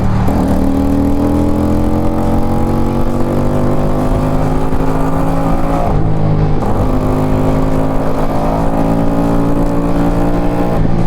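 Musatti Dark Pow 250 chopper motorcycle, a 250cc V-twin, climbs a steep uphill road in a low gear, its loud engine droning and rising in pitch, with a brief dip as the throttle eases mid-climb.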